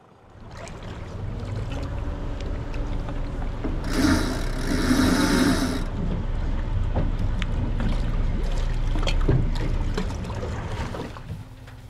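A Honda 350 boat engine rumbles steadily nearby, in gear while loading onto a trailer, with water splashing and churning around it, a brief rush of spray swelling midway.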